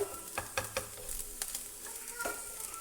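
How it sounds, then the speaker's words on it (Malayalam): Duck egg being stirred and fried in a pan with bitter gourd, a quiet crackling sizzle broken by several sharp scraping strokes of a utensil against the pan, close and soft, with no talk. "മുട്ട ചേർത്തതിന് ശേഷം നന്നായി ഇളക്കിക്കൊണ്ട് തന്നെ ഇരുന്നിട്ട് ഇത് റോസ്റ്റ് ചെയ്തെടുക്കണം ഫ്രൈ ചെയ്തെടുക്കണം"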